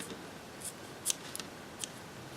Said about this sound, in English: And now you can trim it. Just done a nice diagonal.